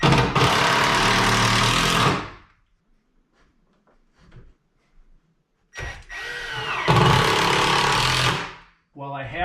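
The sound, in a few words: drilling screws into saloon door and wall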